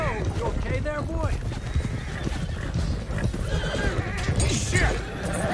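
Horses whinnying and neighing with clip-clopping hooves in Red Dead Redemption 2, loud and close over a busy mix of game sounds and a speaking voice.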